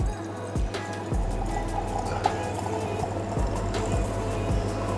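Fever Tree Elderflower Tonic pours into a gin glass, a steady fizzing gurgle of liquid with soft splashes and bubbling, heard close and alone without speech.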